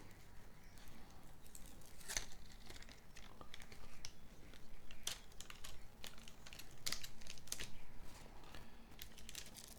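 Tape is pulled from the roll and pressed down to mask the walls of a TL-style guitar body during a build, a run of close, quiet crackles and sharp tearing snaps spread over a low hiss.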